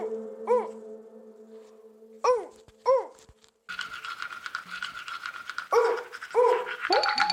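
Child imitating a dog with a few high, yelping bark-like cries and panting sounds, close by, with brushing and household clatter in the background.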